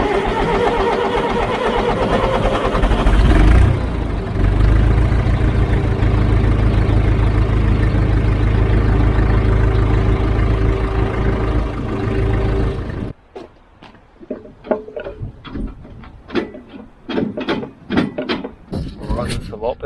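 A David Brown tractor engine, just serviced, runs at a loud steady idle up close before cutting out, followed by quieter clunks and mechanical knocks as it settles.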